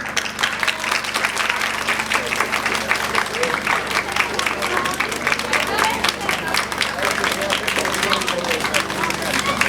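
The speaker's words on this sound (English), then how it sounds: "Please give a big round of applause." Sustained applause at a grammar school result day ceremony, dense steady clapping from a crowd with a faint hum beneath and some background voices mixed in throughout.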